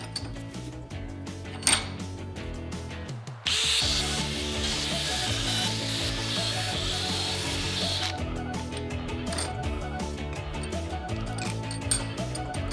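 Wire brushing scrubs rust off old tools from a 1975 Suzuki Ranger motorcycle, including the cap, the original tool housing and a stabilizer bar, in a steady, dense rasping run over continuous background music.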